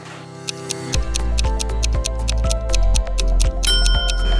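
An air fryer's ready signal sounds as a rapid run of short, bright electronic beeps, loud and close, repeating steadily for about four seconds with no talk.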